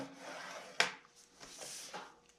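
A 12-inch paper sheet being scored with a tool for a handmade journal, a soft rubbing drag with one sharp tap, quiet and close, no voices.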